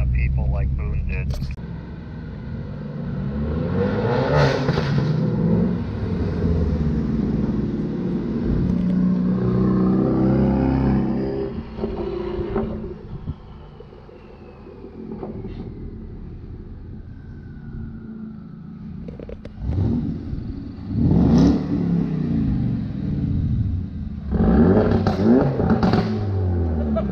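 A rally car engine on a forest road rally growls and revs in bursts, rising and falling over a rough rumble, with louder throttle blips near the end.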